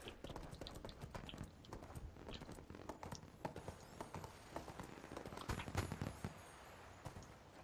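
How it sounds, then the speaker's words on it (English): A horse's hooves in the game ArcheAge, clip-clopping steadily in a quick, even rhythm, fairly faint, continuing throughout. "Let's get my horse so it's a bit quicker here."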